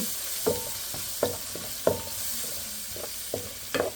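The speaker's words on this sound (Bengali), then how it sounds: "এখন আমি এর ভিতরে রসুনের পেস্ট আদার পেস্ট দিয়ে দেবো দিয়ে একটু কষিয়ে নেব" Garlic and ginger paste sizzles in a pan with browned onions, a steady frying hiss broken by regular scraping stirs roughly every half second or so.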